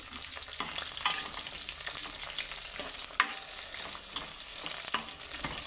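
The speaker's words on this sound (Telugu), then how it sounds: "చిట్లుతుందండి పండు మిర్చి అయితే, జాగ్రత్తగా వేంపుకోవాలి" Ripe red chillies frying in hot oil give a close, continuous sizzle with frequent sharp spluttering pops and crackles, no voices.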